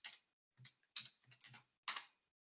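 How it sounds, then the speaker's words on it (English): Typing a password on a computer keyboard while configuring an industrial PLC, five short bursts of soft key clicks with gaps between, quiet and close. "you won't see the password I'm typing in"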